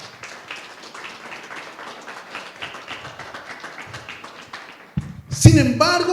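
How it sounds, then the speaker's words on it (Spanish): A church congregation claps in a steady, moderately distant patter of applause, followed by a sudden loud burst of voices and sound from the front. "Dale un aplauso al Señor."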